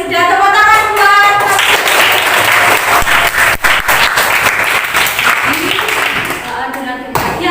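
Schoolchildren in a classroom clap together in a loud, dense burst of applause that fills the room, with children's voices calling out over it at the start and end.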